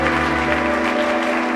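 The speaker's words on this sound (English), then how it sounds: "Please give her a warm round of applause." An audience at a film festival Q&A applauds a writer-director, a steady, dense clapping throughout with no voices.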